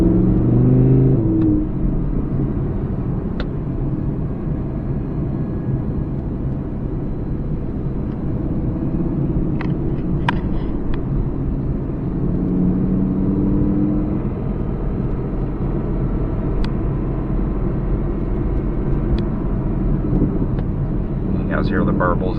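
A 2017 Audi R8 V10 Plus rumbles along on the road, its engine and exhaust giving a steady low drone with occasional soft burbles, wind noise around it and someone talking over the top.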